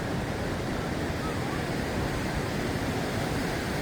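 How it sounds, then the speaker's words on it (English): Rushing water at Niagara Falls roars in a steady, dense wash of noise, loud and continuous with no pauses, heard from a metal bridge. "you can still hear the water, and the water is pretty loud."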